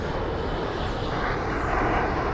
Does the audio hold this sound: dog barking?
no